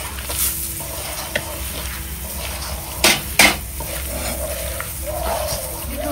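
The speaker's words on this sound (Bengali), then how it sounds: "হচ্ছে পরোটা ভাজা হচ্ছে।" A paratha fries in a pan with a soft, continuous sizzle, broken by a couple of sharp utensil scrapes and clinks against the pan midway.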